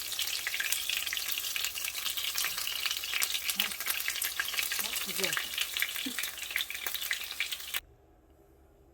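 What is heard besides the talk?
pastry rolls frying in oil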